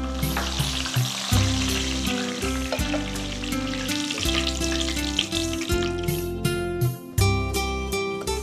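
Curry leaves sizzle and crackle loudly in hot oil in a pan, a dense steady frying hiss with sharp pops and spatters, alone without talk.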